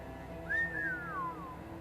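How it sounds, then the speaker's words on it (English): A single sliding whistle from a character in the video game Code Vein rises quickly, then glides down over about a second, sounding clear above a quiet, steady game ambience. "That whistle was a little, inappropriate."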